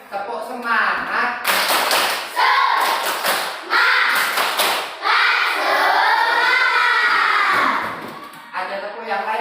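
A classroom of young children performs the rhythmic 'tepuk semangat' clapping chant, with bursts of loud, close claps and taps mixed with lively chanted voices throughout.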